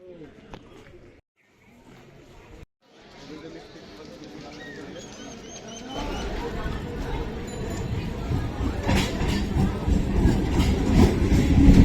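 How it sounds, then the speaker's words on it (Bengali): A passenger train on the Ranaghat to Lalgola line starts faint under voices, then its rumble and clatter build steadily to a loud, close roar. "রানাঘাট থেকে লালগোলা ট্রেন নটা বাইশের এই ট্রেনে করে আমরা নামবো বেথুয়া ডৌড়ি"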